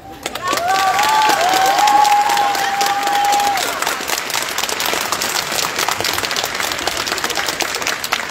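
An audience at a cosplay contest during a fantasy convention in Gliwice applauds in loud, sustained clapping with cheering. A tonal whistle-like sound rises briefly over the crowd early on, and the clapping fades slightly toward the end.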